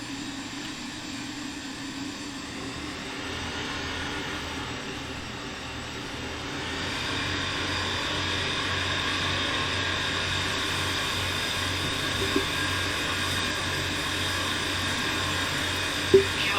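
A small airplane taxis off the runway after landing at the Catalina Island airfield. Its engine gives a steady, close drone that rises slightly partway through and stays continuous, with no talking.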